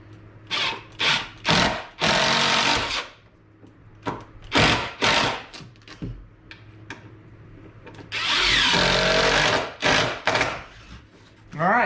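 Power drill driving screws into wood while building a shaving horse, heard as several loud bursts of motor whine in quick succession, each rising and stopping, with brief pauses between and a longer sustained run near the end.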